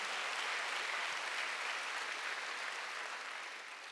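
Congregation clapping during a Sunday sermon at a Korean church; a soft, even wash of many hands heard from a distance, steady for the whole stretch and tapering slightly at the close.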